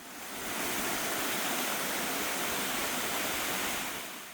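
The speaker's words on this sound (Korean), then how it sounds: "수십 미터 절벽을 휘감으며 떨어지는 폭포는 10m 앞에서도 시원함이 느껴집니다" A waterfall swollen by rain plunges tens of meters down a winding cliff face, producing a steady, full-bodied roar heard from close range that swells in and holds evenly.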